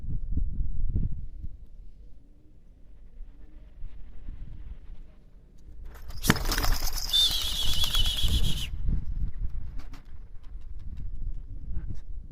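Tumbler pigeons flap their wings in flight, a burst of broadband flutter lasting about two and a half seconds midway through, over steady low outdoor rumble and wind.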